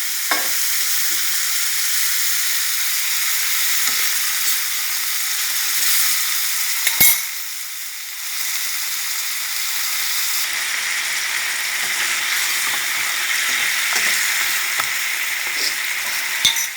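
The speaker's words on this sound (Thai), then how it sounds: "เติมน้ำไปหน่อยหนึ่งเคี่ยวให้หมูเขาสุก" Pork ribs cooking in a pan with a little added water hiss and sizzle steadily while a utensil stirs and scrapes now and then; the sound is close and continuous, with no talk.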